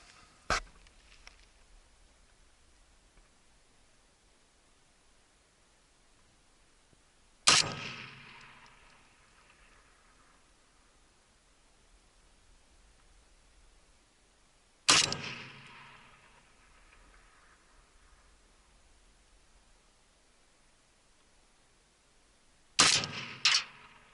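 7.62x39 rifle fired at long-range armor targets, four sharp, loud shots spaced roughly seven seconds apart, each followed by a rolling echo that fades into near silence.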